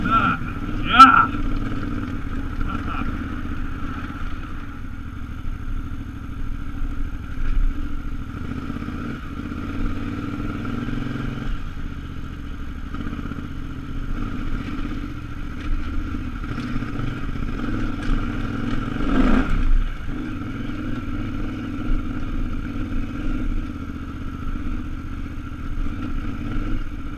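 A KTM 950 Adventure motorcycle rides Slick Rock Trail in Moab over rock and sand, its engine a steady mid-pitched drone heard near throughout, with a brief swell partway through.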